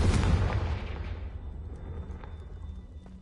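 A Confringo blasting spell explodes in the video game Hogwarts Legacy: one loud, close blast that hits hard at once, then rumbles and fades over a few seconds into a low, lingering roar.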